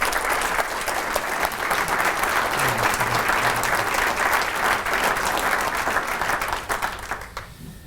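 An audience gives Chris a round of applause at a talk, loud, full clapping that keeps going at an even level and then drops off abruptly near the end, with a little voice mixed in.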